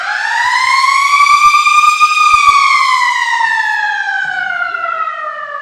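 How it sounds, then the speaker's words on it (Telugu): A college period siren wails loud and steady on its own, its tone rising slightly, then gliding slowly downward as it holds for several seconds. "సో ఆల్మోస్ట్ ఒక సైరన్ మోగింది"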